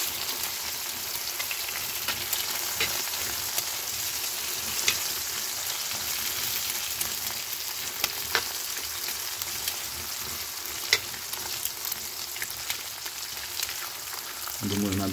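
Steady crackling sizzle of eggs frying in a hot cast-iron pan, constant and close, with occasional sharper pops throughout.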